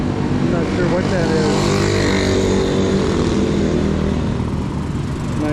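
A nice small motorcycle parked on a street among scooters runs with a loud, steady engine drone close by, with people talking over it.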